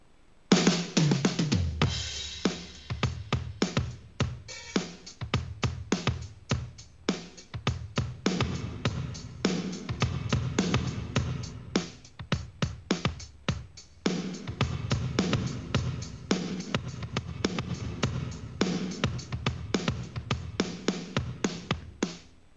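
Yamaha DTX electronic drum kit with added room ambience and compression, played in a steady groove of punchy kick, snare and cymbal hits that runs continuously and up close with no talking.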